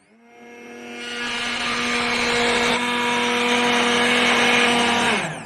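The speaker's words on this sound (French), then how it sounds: "Je vais essayer d'enregistrer le moment où je mets le mixeur." A kitchen blender starts up and runs steadily at high speed, a loud sustained whir with a constant motor tone, fading out near the end.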